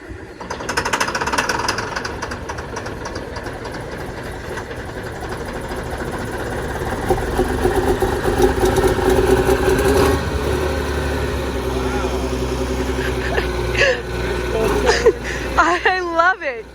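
Old articulating tractor engine running after a cold start, a rough, rapid hammering idle close by that holds steady with brief revs and clunks near the end, under occasional talk.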